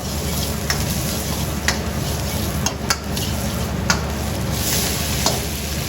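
Garlic and onion dry frying in a restaurant pan, a steady close sizzle with scraping and stirring clinks of a utensil against the pan throughout.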